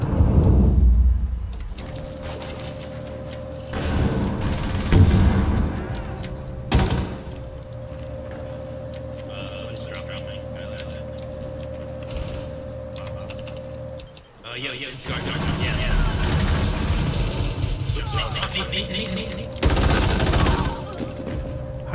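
Gunfire in a Rainbow Six Siege match, several loud bursts of shots near the start and again past the midpoint, with a steady hum in between and people talking over parts of it.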